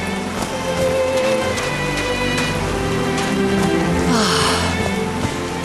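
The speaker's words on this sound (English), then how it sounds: "these drops of rain are so refreshing" Steady rainfall on a mountain top in the video game Call of the Sea, a dense continuous patter of drops over a low layer of game ambience and music, with no voice.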